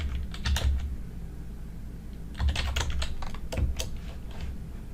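Rapid keystrokes on a computer keyboard come in two close bursts of clicky tapping separated by a short pause, near and crisp with no talking.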